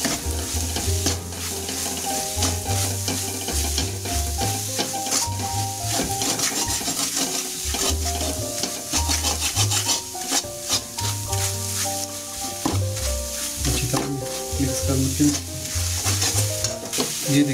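Veg keema with turmeric, red chili and salt being stirred in a pan, with a steady sizzling, frying bed and continuous scraping and rubbing of the spoon throughout, alone without talk.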